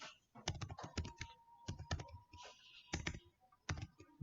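Computer keyboard typing C++ code, quick clusters of close, crisp key clicks with short pauses between the bursts, quiet overall and no voice.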